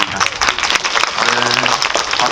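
An audience at a post-screening talk for the Korean film Kingmaker breaks into applause, a broad ongoing clatter of many hands with some faint voices mixed in beneath it.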